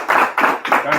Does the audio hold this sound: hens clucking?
no